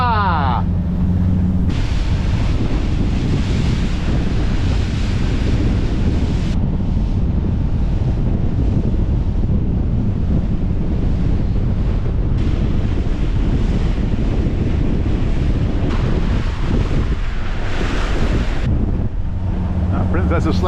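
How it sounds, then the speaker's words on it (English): A motorboat pounds through the wash of a passing Princess motor yacht while spectating a powerboat race, with loud wind buffeting the microphone, waves slapping and the engine droning continuously. "that is the wash of that princess"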